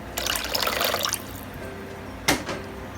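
Two cups of water for sotanghon sauce splash and pour into a pan in a short bright gush, then after a pause a second quick splash, close and clear without talking.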